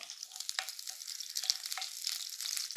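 Crushed garlic cloves and a halved green chili sizzle in hot oil in a pan, a soft, steady crackling fry with a few sharper pops.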